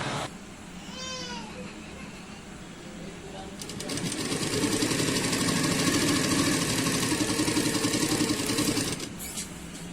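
Electric sewing machine stitching a side strip on the back panel of a suit, its steady whirring hum rising louder and faster midway and running continuously up close, with a brief voice early on.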